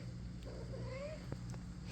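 A mother cat with her kittens, just after eating, gives a faint, thin rising meow over a low steady background hum in a quiet, close setting.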